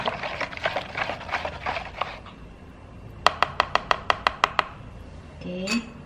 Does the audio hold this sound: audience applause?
no